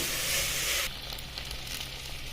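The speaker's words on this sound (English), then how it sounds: "I add in the rice, giving it a good stir and warming up the rice just for a minute or 2." Rice sizzles and fries in a pan with garlic-ginger paste, a bright crackling hiss, loud at first, then softer as a spoon stirs with light scraping.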